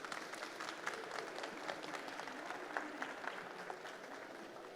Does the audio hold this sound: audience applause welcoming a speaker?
yes